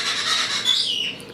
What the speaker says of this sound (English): my birds are making so much noise